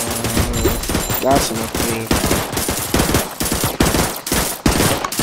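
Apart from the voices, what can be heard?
gunfire from Tower Defense Simulator video game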